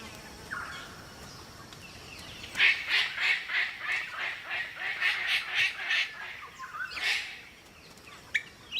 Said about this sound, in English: His quest was to unlock the secrets of the world's most spectacular cockatoo, the Palm Cockatoo.